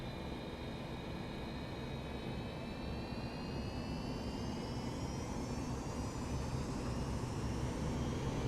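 A Boeing 737-200's jet engines spool up to takeoff thrust in a flight simulator, a steady broad roar with a slowly rising whine that builds continuously and grows louder over several seconds, with no talking.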